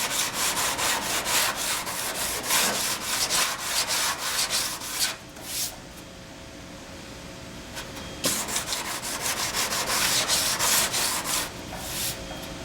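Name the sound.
sanding car paint down to bare metal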